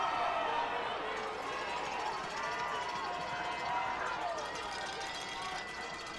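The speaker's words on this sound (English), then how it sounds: "the crowd here is very pro-Husky, so they're getting loud and supportive for that Husky team" A loud football crowd backs the home Husky team at a high school division final at IG Field, a broad, steady roar of cheering that holds through the moment with a commentator talking over it.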